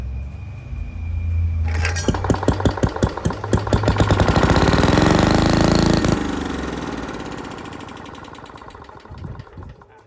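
An old Briggs and Stratton Model 9 engine is pull-started, catching after a beat of quiet and sputtering loudly up close with rapid uneven firing, then fading and stumbling as it fails to stay running.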